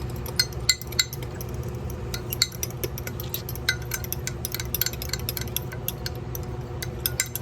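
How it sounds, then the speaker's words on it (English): Whisking a mixture of rosemary and thyme in a bowl: rapid, steady light clinks and ticks of a whisk against the bowl, continuous and close, with no talking. "Give this a whisk."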